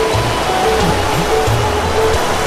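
A loud, steady wash of falling water rushes at Silver Falls in Oregon, with low rhythmic tones layered underneath.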